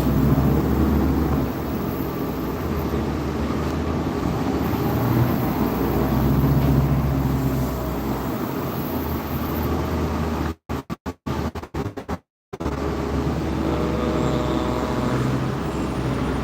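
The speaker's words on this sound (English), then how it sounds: "it's really loud on this bus. It's definitely a lot louder than the normal bus" Loud roaring cabin noise inside a moving bus, a steady wideband engine and road drone that carries on throughout with a couple of brief dropouts and no talking.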